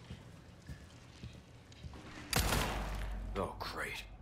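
Gunfire in Resident Evil 4 Remake, a loud close burst followed by a couple of further sharp reports and thuds, after a stretch of quiet game ambience.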